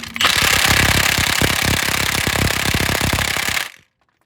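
A Milwaukee impact wrench hammers hard on a bolt during Honda 3.5L V6 timing belt and water pump work, in one loud, continuous rattling burst of about three and a half seconds that then stops dead.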